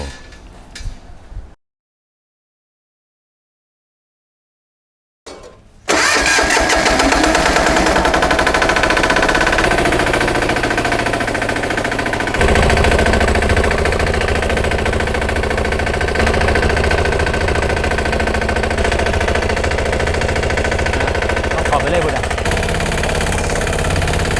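A mini tractor's engine runs while it is driven, a loud, steady, rattling drone that fills the clip after a short burst of sound and a few seconds of silence.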